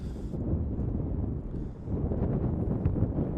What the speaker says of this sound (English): Big wind gust, you can see the wind.